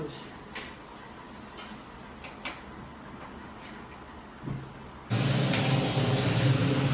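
A kitchen chimney exhaust hood switches on abruptly and runs as a loud, steady broadband rush after a few quiet ticks and clinks, with faint voices under it.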